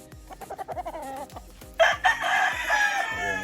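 A gold sweater gamefowl rooster at a game farm, with a quick series of clucks and short calls followed by a loud, close, drawn-out crow.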